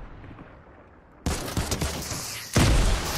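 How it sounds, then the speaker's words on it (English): Grenade launcher explosions in the video game Fortnite, with two sudden loud blasts and rumbling noise between them, following a quieter stretch of game ambience. "They got grenade launchers, careful. Oh, it's grenades. Those are grenades."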